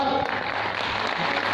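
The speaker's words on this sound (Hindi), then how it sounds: "इनके वास्ते भी तालियां।" Crowd applause at an outdoor gathering honouring a motorcycle convoy arrival, a dense continuous wash of clapping that stays loud and steady throughout, with noisy background chatter mixed in.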